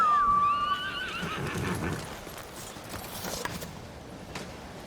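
A horse in the samurai video game Ghost of Tsushima lets out a loud, clear whinny, and faint hoof clops and soft creaks follow it in the background.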